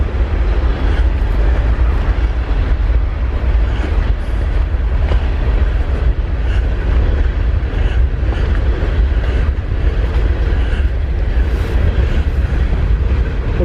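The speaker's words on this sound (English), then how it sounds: "There's a train coming" A train passes during heavy December snow, making a loud, continuous, rumbling roar that stays steady and close throughout with no speech.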